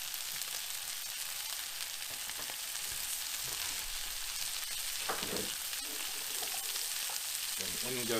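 Butter or oil sizzles steadily in a frying pan for a hearty breakfast, a continuous close hiss filling the space, with a few faint clicks and movements near the end.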